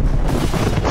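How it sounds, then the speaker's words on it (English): Loud, dense blast of an explosion sound effect for the Oklahoma City bombing at the Alfred P. Murrah Building, a continuous booming rumble with heavy low end filling the whole second. "an explosion rips into the Alfred P. Murrah Building"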